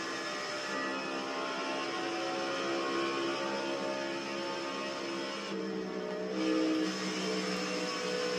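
Stock car racing in the NASCAR Heat 5 video game at Michigan: a car runs down the back straightaway as a continuous engine drone with a steady whine, swelling slightly near the end.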